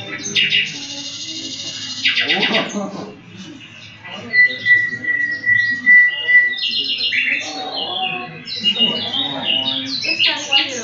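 Birds squawk and chirp in rapid bursts through most of the stretch, loud and close, with a sustained high whistle in the middle and speech-like chatter mixed in.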